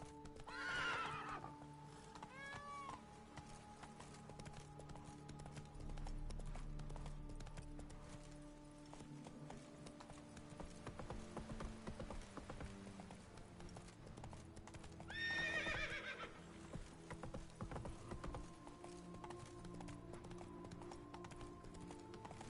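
Roach, the horse in The Witcher 3, galloping with steady rhythmic hoof clip-clop that runs through the whole stretch, near and fairly loud, with a couple of whinnies standing out early on and again midway.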